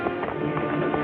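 Horses' hooves clip-clopping in a film battle scene near a prison, a quick run of regular hoof beats over a continuous background din, brief and moderately close.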